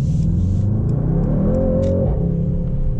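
Mercedes-AMG GT 63 S accelerating hard in comfort mode with the exhaust setting on, a loud, steady engine roar that rises in pitch as the revs climb, heard from inside the car with no talking.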